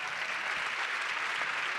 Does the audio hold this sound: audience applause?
yes